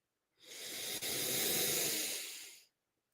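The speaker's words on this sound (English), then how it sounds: "Breathing in." One long, close, airy inhale during a guided breathing exercise, rising quickly and holding steady for about two seconds before cutting off, with no talking over it.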